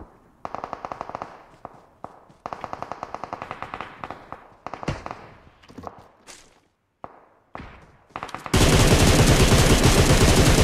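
Gunfire in PUBG Mobile: bursts of rapid automatic shots in quick rhythmic runs, a few isolated cracks between, then a loud dense barrage at the end, close and sharp.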